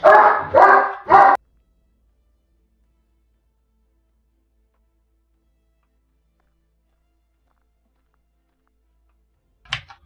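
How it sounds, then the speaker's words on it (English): A dog barks excitedly indoors, three quick loud barks in a row, then a long silence broken by a brief faint noise near the end. "And dog's going crazy."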